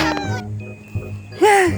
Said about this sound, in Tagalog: Yung pusa mahabol pa rin guys.